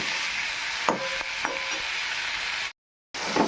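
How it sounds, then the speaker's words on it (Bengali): Small fish with turmeric and salt being stirred in a hot pan, with a steady close sizzle of frying and a few sharp spatula scrapes and taps, briefly cut to silence before resuming. "এবার একটু নেড়ে চেড়ে কিছুক্ষণ নেব এইভাবে"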